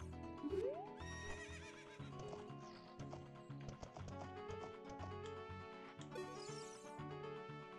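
In The Legend of Zelda: Ocarina of Time, a horse lets out a sharp whinny near the start and another later, over game music and light clip-clopping hooves.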